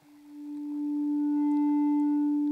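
Clean, steady sine-like tone from a BRENSO complex oscillator, unfolded by the wave folder, holding one pitch with faint upper harmonics and swelling gradually louder over a few seconds.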